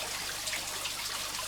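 Water from a small aquarium waterfall trickles and splashes in a steady, faint, hissing wash, with no talk over it.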